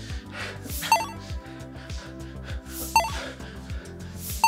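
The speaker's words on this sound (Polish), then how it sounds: "Alarm." An alarm rings during a competitive game session, sounding as sharp repeating beeps about every two seconds over a busy, music-like electronic background.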